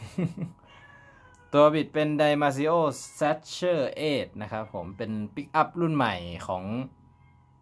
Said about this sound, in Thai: ได้ยินเสียงแมวร้องไหม